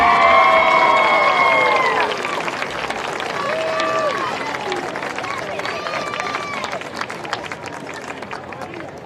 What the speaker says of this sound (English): let's give one more round of applause for our king and queen